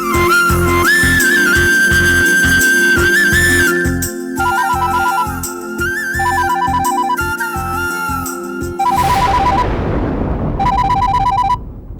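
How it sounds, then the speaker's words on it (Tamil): An electronic phone ringtone in a Tamil TV serial repeats as a melodic series of bright tones over background music, then continues as short bursts after the music fades. "யாரோ கேசவன்னு ஃபோன் பண்றாங்க"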